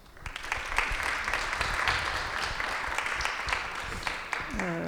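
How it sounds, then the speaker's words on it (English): A festival masterclass audience applauds to greet the speaker, moderate clapping from a modest crowd in a room, steady then tapering with a voice starting at the end. "please let us greet Noémie with a round of applause"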